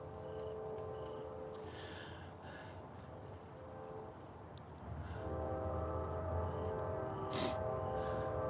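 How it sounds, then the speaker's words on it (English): A train rumbles past with a steady low drone, and a long, tonal whistle sounds through it, growing louder toward the end. "I hear the train whistle. I'm sure you all can hear that."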